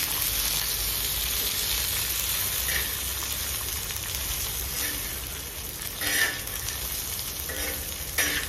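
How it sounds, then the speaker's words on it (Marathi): Roasted peanuts with green chillies and garlic crackle as they are stir-fried in a clay pot over a village fire, a dense, close, continuous sizzle broken by a few scraping stirs. "हे भाजलेले शेंगदाणे त्याला छान असं परतून घेऊ आपण."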